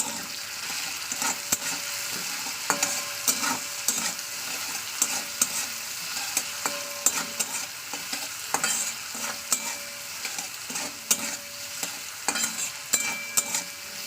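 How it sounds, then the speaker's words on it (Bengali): Vegetables fry in oil in a pan after salt and turmeric go in, a steady close sizzle broken by frequent clicks and scrapes of stirring, with no talk. "এবার আমি এটাকে ভালো করে একটু তেলের সঙ্গে মাখিয়ে নেবো"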